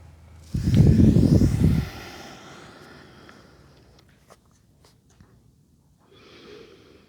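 A long, loud breath is heard during a yoga sequence with a plank and child's pose, followed by quieter trailing breath and a soft exhale near the end.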